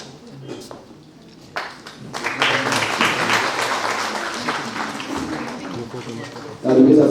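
Applause swells from a crowd at a Women's Day event at a college and continues steadily, mixed with a loud voice over a microphone, which resumes at the end.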